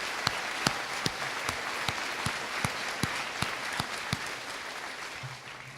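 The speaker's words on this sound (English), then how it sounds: "Would you please give them a round of applause, please?" An audience at a high school graduation ceremony applauds in a large hall, a steady wash of many hands clapping with a few sharp, distinct nearby claps, fading slightly at the end.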